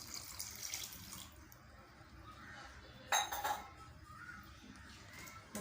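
Water poured into a container of chopped carrot and passion fruit with sugar for a drink, a trickling splash with clinks of kitchen dishes and utensils, close and fairly quiet, with one sharper knock midway.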